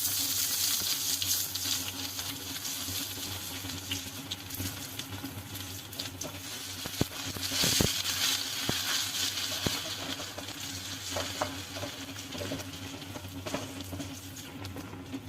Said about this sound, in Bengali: এবার এর মধ্যে দিয়ে দেব পেঁয়াজ।